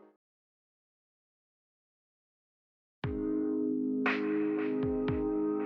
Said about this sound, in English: Can you hear the water flowing through the pump?